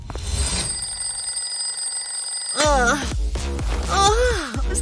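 A telephone rings with a steady electronic tone, then gives way to warbling, sliding tones and a voice.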